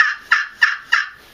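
A wild turkey gobbles loud and close in a quick rattling series of about four sharp bursts, with no other sounds around it.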